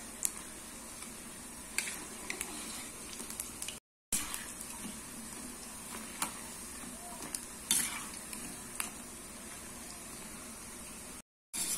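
Coconut milk paniyaram, made from rice and urad dal batter, fry quietly in a pan while they are turned. A soft continuous sizzle carries occasional clicks and taps from the turning tool, with two brief silent breaks.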